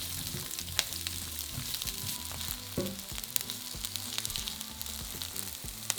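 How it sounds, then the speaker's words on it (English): A large sliced onion fries in olive oil in a frying pan over medium to high heat, with a steady close sizzle, scattered crackles and occasional stirring, and no speech. "Add a large sliced onion and fry for 5 to 6 minutes over that medium to high heat"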